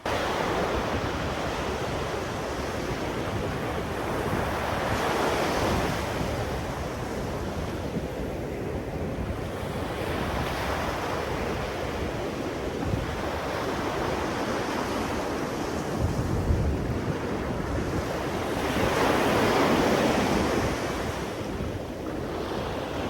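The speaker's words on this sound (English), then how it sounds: "the waves were so strong, you guys" Strong ocean waves and surf roll in continuously, a loud, close wash of crashing water that swells and fades in slow surges, with wind buffeting the microphone.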